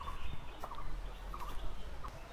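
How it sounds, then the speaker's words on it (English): Tropical birds call in a mountain jungle garden, a few short, bright chirps and whistles scattered over a soft, low background hum. "Hear all the tropical birds"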